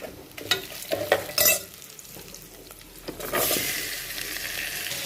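Oil sizzles and crackles loudly as onions are dropped into a pan with a pinch of turmeric, with scraping stirs up front and a steady frying hiss building after.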